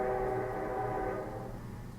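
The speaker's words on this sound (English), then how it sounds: "So did you hear that train whistle?" A train whistle sounds a steady, harmonic tone that fades out after about a second, leaving a low rumble.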